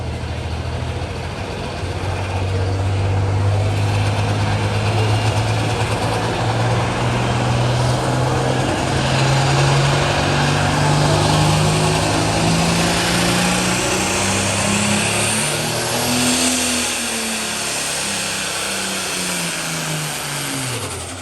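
Tractor engine straining in a tractor pull, a loud sustained drone heard from a distance whose pitch climbs slowly across the run, then rises more sharply before dropping away near the end.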